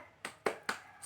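Three crisp hand claps, close and evenly timed, and the start of a fourth, from an Indonesian primary-school teacher leading a rhythmic classroom clap chant, with no talking.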